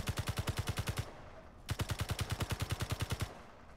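An automatic gun in the video game Space Engineers fires in two rapid bursts of evenly spaced, loud, punchy shots, each roughly a second long, with a short gap between them and no talking.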